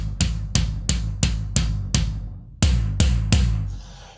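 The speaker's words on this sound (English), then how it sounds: "So if I hit the drum," A drum is struck hard at full velocity in a series of about nine evenly spaced, booming hits. Each hit rings out with a quick decay, loud and close with no talking.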